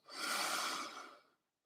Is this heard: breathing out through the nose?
yes